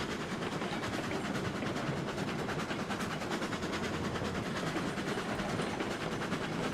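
A steam locomotive rolls along rails in RailRoads Online, a steady low rumble with faint rhythmic clatter, constant and moderately distant, with no voices.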